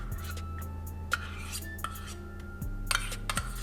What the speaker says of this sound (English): So we're gonna get the yogurt in this bowl.